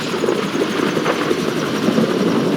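A helicopter in GTA 5 sends out a loud, steady rotor roar and broadband engine wash, filling the whole moment at close range.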